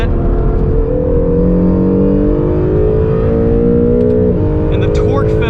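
2020 Acura NSX hybrid accelerating hard out of a track corner, heard from inside the cabin: a loud, rising engine drone climbs steadily in pitch, then drops briefly at an upshift before climbing again, with a faint whine over the top.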